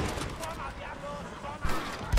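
Gunfire in Red Dead Redemption: Undead Nightmare, a few sharp shots sounding at irregular moments amid constant game noise, with a player talking over them loudly.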